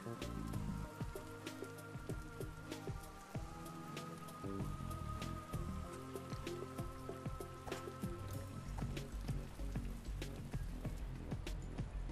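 Rain falling in the video game Spider: Rite of the Shrouded Moon, a steady, quiet patter of drops with scattered sharper ticks, continuous throughout under faint tonal game ambience.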